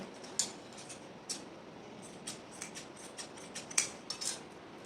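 Scissors snipping through kurti fabric along a sleeve, a sequence of soft, short metallic clicks at an irregular pace, close and fairly faint over a quiet room.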